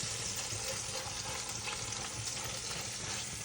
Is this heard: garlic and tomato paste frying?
yes